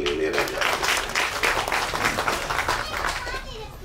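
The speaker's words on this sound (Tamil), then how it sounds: "அதுக்கு ஒரு மிகப்பெரிய கைத்தட்டல் இளையராஜா." Loud, sustained applause and clapping from a large audience at a public speech event, a dense continuous roar of hands with some voices mixed in, tapering slightly toward the end.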